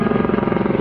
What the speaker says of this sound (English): one helicopter after another is coming by to mess up the shot